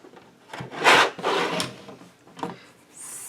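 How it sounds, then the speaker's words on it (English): Paper-like scraping and rubbing from a recycled Christmas card being cut, a few short bursts with gaps between, close and fairly loud, no talking. "So I'm going to cut 1/2 inch off each side."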